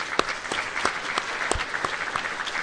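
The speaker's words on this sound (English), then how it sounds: "I really give them all a round of applause," Conference audience applauding the speakers at a national conference, a short, steady round of clapping lasting under three seconds with no talk over it.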